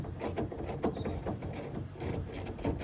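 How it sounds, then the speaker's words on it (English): An 8mm socket on a ratchet backs out the stock tail light screws on a 2017 Ford F-250 Super Duty, giving close, repeated light clicking and mechanical rattles that run steadily through the clip. "how you get this stock tail light off is you have two screws here, and I'm using a 8mm socket"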